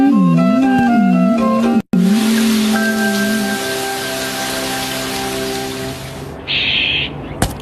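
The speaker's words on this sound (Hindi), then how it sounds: "अरे वाह, बारिश भी रुक गई।" Rain pours steadily in a Shinchan cartoon, a broad, even hiss that follows a short animated voice and runs under soft sustained tones before a brief bright sound near the end.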